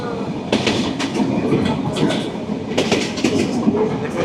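A Sundarban Express passenger train runs steadily along the rails, its continuous rumble and rattle broken by recurring clickety-clack beats of the wheels over track joints, loud and close as heard from on board.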